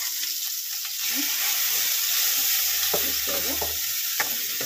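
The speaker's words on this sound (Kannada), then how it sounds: "ಸಾಸಿವೆ ಹಾಕಿದ್ದೀನಿ ನೋಡಿ, ಚಿಟ್ಪಟ ಅಂತ ಇದೆ" Mustard seeds crackle and sizzle in hot oil for a bitter gourd chutney tempering: a loud, dense, continuous frying hiss heard up close, with a brief word spoken over it.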